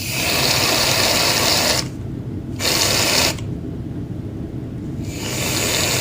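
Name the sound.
spraying cheap Target shaving cream for fluffy slime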